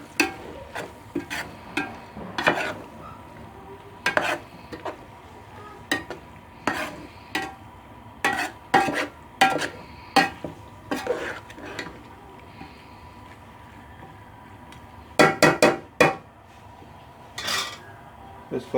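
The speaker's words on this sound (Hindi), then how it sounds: "अब इसको हम मिक्स कर लेते हैं।" A metal spoon scrapes and clanks against a pot, stirring chicken and vegetable macaroni in masala in short, irregular bursts over a soft sizzle.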